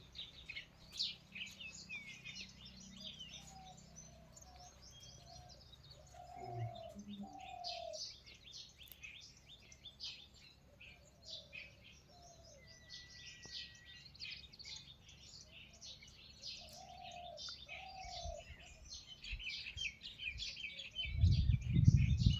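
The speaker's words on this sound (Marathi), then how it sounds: "पक्ष्यांचा आवाज येत असेल बघा" Birds chirp steadily in the background while pigeons coo in short bursts now and then, in an otherwise quiet outdoor setting.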